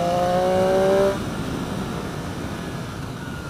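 A 2018 Triumph Street Triple RS being ridden, its engine holding a steady high-pitched note that eases off after about a second into a lower, even drone, with no talking.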